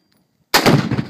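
After a short silence, a single loud rifle shot at a reactive target cracks out, with a booming report that rolls away over open ground.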